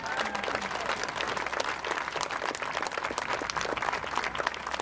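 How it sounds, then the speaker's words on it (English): Sustained applause from an audience of school district staff at a 2024 gathering, many hands clapping evenly and loudly throughout, with faint crowd murmur beneath. "Please give yourselves a round of applause."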